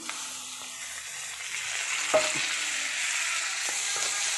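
Onions and tomato sautéing in a pan for a broccoli curry, a continuous close sizzle with a few stirring scrapes and clicks, heard alone without talk.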